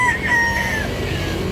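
A rooster at a Cebu cockfighting market crows once, close and loud, with a rising, wavering call over a busy crowd murmur.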